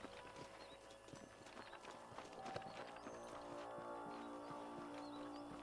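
Horses' hooves clip-clop steadily at a slow walk in the Red Dead Redemption video game, a continuous, moderately loud rhythmic patter of several animals over an ambient outdoor background.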